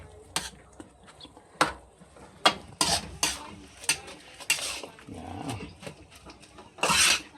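Bopis is sautéed and stirred in a pan, with scattered clinks and scrapes of a spoon against the cookware and a soft sizzle, irregular and close.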